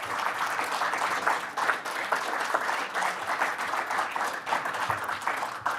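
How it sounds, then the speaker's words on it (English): A studio audience at a Beloit school board candidate forum applauds steadily for the candidates, a dense, even patter of many clapping hands that holds its level from start to finish with no voices over it. "Now we can finally give a warm round of applause to all the candidates this evening."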